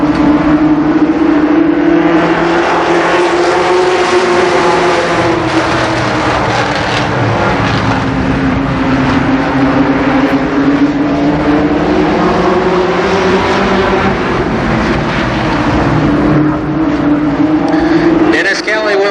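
Limited sportsman race cars in a heat race at Columbus Motor Speedway in 1990, engines roaring loudly and continuously with rising and falling pitch as the pack circles, a track announcer talking over the noise.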